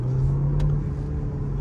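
A BMW 1 Series with about 300 hp accelerates under a strong low engine rumble, with a brief sharp blip marking a gear change partway through. The sound is heard close up from inside the car with no talking.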